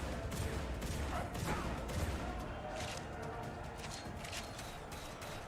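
Sustained turret gunfire blasts in The Chronicles of Riddick: Assault on Dark Athena on PC, a dense, continuous barrage of shots with explosive bursts, loud and steady throughout.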